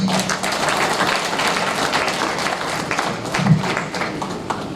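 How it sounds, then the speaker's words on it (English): A symposium audience gives a round of applause, a steady wash of many hands clapping in a large room that holds at an even level throughout with no voices over it. "He deserves another round of applause."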